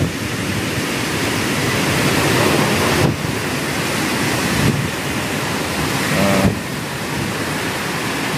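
Typhoon Uwan batters Ligao, Albay with loud, continuous wind and heavy rain, a dense steady roar that briefly dips and surges a few times, with no voices.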